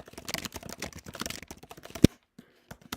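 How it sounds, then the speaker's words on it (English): Rapid, loud clacking of a computer keyboard, fast continuous keystrokes ending with a heavier key thump, then a few scattered taps. "I'm sorry for the extremely loud keyboard."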